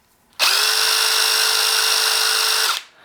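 A DEWALT 20V brushless hammer drill runs at speed setting 3 in one loud, steady, high-pitched whir of a bit over two seconds, starting and stopping sharply, close and alone.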